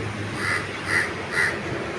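A crow caws three times at a steady, even pace, moderately near, over a constant background hiss.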